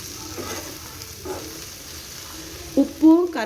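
Okra stir-fry (bendekai palya) being stirred in a pan, a soft steady frying sizzle with a few brief louder scrapes of the spoon near the end, no talking.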